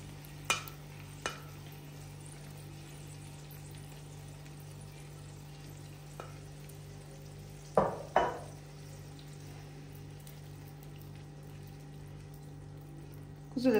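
A breakfast mixture spread into a hot pan with a spoon sizzles quietly over a steady low hum, broken by a few sharp scraping clicks of the utensil against the pan.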